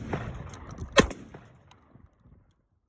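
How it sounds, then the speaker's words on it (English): A Turkish-made shotgun fires a Monarch birdshot round, producing a single sharp, close report with a short fading tail, set against faint background noise. "These rounds from Monarch are birdshot, but they're supposed to cycle a lot more reliably in a Turkish shotgun like this one."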